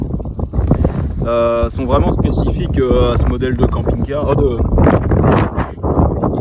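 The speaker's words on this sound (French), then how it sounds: "C'est la tempête." Strong seaside gusts batter the microphone on a stormy day by the English Channel, a loud continuous roar of wind buffeting throughout while someone talks over it.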